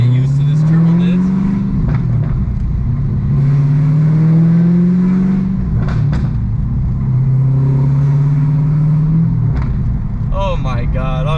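A manual six-speed Hellcat Charger rumbles loudly from inside the cabin, its engine droning through gear pulls with deep rising tones, plus short crackles and burbles between them, while someone speaks excitedly over it.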